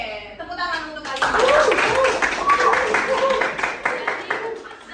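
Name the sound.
students clapping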